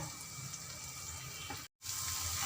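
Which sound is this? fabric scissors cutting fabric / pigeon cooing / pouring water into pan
pouring water into pan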